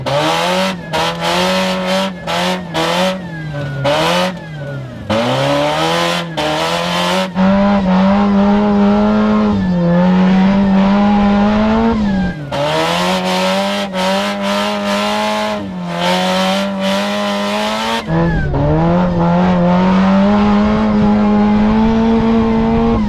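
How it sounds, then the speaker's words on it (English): A Mazda Miata is pushed through corners in a drift, its engine droning loud and close while the revs rise and dip, broken by repeated bursts of tire squeal and skidding. "you can drift these pretty good"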